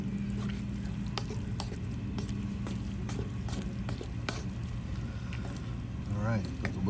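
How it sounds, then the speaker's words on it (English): Scraping and clinking of a spoon stirring chili mac inside a cast-iron camp oven, irregular strokes against the pot over a low background hum, with a voice speaking nearby. "We'll give it a stir."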